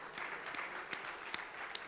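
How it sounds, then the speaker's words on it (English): An audience at a startup conference session applauds the presenters, a continuous wash of clapping with a few sharper individual claps standing out, heard at a moderate distance. "I'd like everybody to give a nice round of applause for the presenters."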